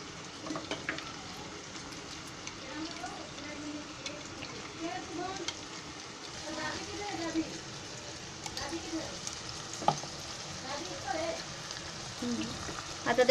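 Homemade chicken 65 gravy sizzles softly in a pan after a splash of water goes in, a low bubbling hiss under someone talking nearby.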